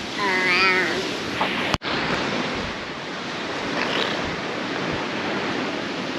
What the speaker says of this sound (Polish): Plażowanie nad polskim morzem.